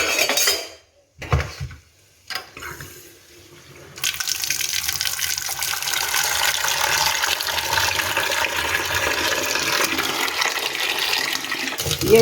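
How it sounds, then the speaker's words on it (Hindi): Water is poured and runs into a pot for cooking rice at a home kitchen sink, a steady splashing flow that follows a few brief clattering knocks. "पानी भी डालती हूँ साथ।"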